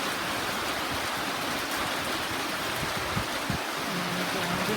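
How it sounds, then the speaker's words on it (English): Light rain falls steadily as an even, close hiss with no breaks and soft low patters underneath. "just a little rain. It's not a hurricane."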